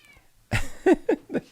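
Cat meowing indoors, a few short close meows in quick succession after a brief quiet start, fairly loud with no talking over them.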